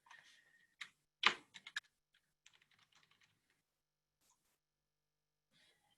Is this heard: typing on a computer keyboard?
yes